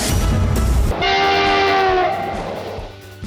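A loud train horn sound effect sounds as a sustained, steady blast over a rumbling rail background, then slowly fades.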